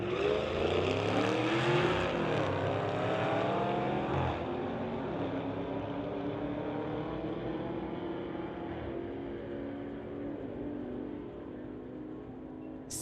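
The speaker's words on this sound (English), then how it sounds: "we've got Jeff Letkeman from Abbotsford in a 2005 Mustang GT. He's going against Dusty Rhodes in the 2013 CTS" A 2005 Mustang GT and a 2013 Cadillac CTS drag racing at a strip, engines roaring loudly at launch and then fading steadily into the distance as the cars pull away.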